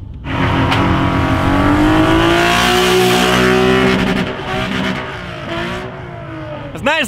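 A Mitsubishi FTO engine revs hard and loud close by, its pitch climbing and holding high for several seconds before easing off, then a short sharp blip at the end.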